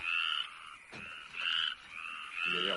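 Frogs croak in a night scene, a rapid pulsing chorus in repeated bursts of about half a second with short gaps, moderately near and steady, with no voices over it.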